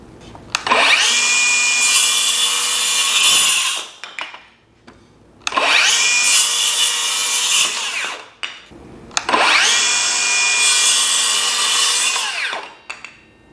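A Milwaukee M18 2930 rear-handle 7.25-inch brushless circular saw makes three test cuts through wood. Each is a loud, close whine of about three seconds, rising as the motor spins up and falling as it winds down, with short pauses between and no voices.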